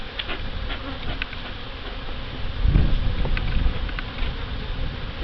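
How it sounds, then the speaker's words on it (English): Honey bees buzz around an opened hive during a mid-July inspection, a dense steady drone of many insects that swells briefly near the middle, close and continuous with no talking. "So I want to clean the top of these frames, but I need to get the bees off the top first."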